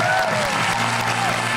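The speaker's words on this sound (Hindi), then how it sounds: "तालियां।" Brief burst of steady audience applause at a televised Eid show, dense clapping filling the whole moment with faint musical tones underneath.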